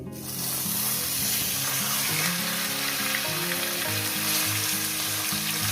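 Chicken pieces fry in hot oil over a high gas flame for a Bengali chicken curry. A loud, steady sizzle runs throughout beneath background music.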